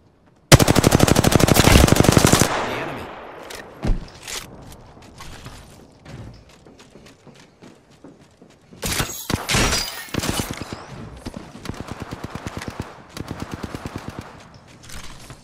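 Machine gun fire in Apex Legends rips out in a loud sustained burst, then scattered single shots and thuds follow before more rapid bursts of automatic fire resume.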